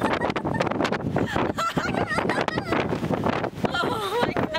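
Strong wind blasts across a Hawaiian beach, roaring into the microphone without a break, with raised voices and high cries mixed into the gusts.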